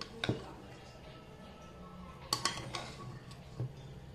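A metal spoon stirs freshly cooked soya pulao rice in a pressure cooker pot, making a few soft clinks and scrapes spread out over a quiet kitchen.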